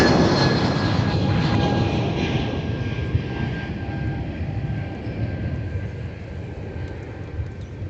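A lightly loaded Airbus A220 jet departing from MSP airport, a steady, loud broadband engine roar holding throughout the takeoff and fading slowly, with a faint high whine riding on top.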